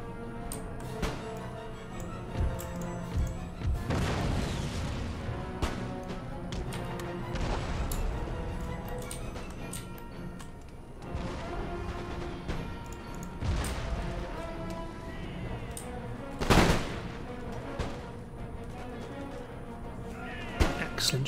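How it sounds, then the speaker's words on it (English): Musket volleys and round shot fire in the Empire Total War strategy game, scattered sharp cracks and booming impacts recurring over a dense battlefield din, with a louder blast near the end. "Excellent shots being put forward by my musketeers."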